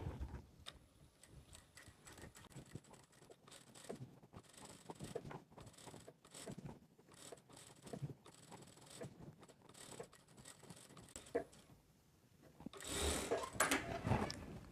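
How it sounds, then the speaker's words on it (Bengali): Sewing machine stitching a bar tack on a bolster pillow cover, quiet rapid mechanical ticking in uneven bursts, growing louder toward the end. "এখানে একটা বারটেক দিয়ে দিলাম ঠিক এইভাবে একটা বারটেক দিবেন"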